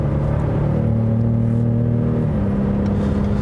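A 2019 Ford F-150 Raptor with a turbocharged V6 and synthesized augmented engine noise drones steadily up close, a loud, low, even hum whose pitch shifts slightly as it runs, with no talking.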